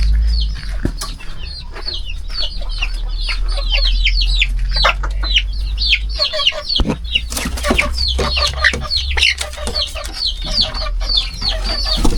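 Chickens clucking and chattering continuously, several birds close by, with a low steady engine hum underneath.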